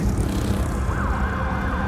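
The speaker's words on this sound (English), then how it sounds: "As sirens echoed in the night air" A siren wails with a rising and falling tone at night over a steady roar of traffic and city noise, moderately distant.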